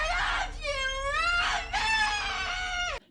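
A woman's scream from a horror film, layered with added demonic voice effects, rising and falling in long wailing tones before cutting off abruptly.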